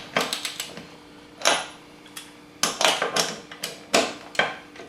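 Torque wrench clicking and ratcheting as it tightens the axle nut on a Can-Am Outlander ATV hub, a close series of sharp irregular clacks and taps in bursts with quiet gaps between them.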